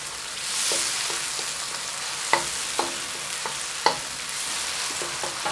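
Tomatoes cook down in a frying pan for a vegan zucchini noodle dish, giving a steady soft sizzle broken by sharp taps of a utensil stirring against the pan.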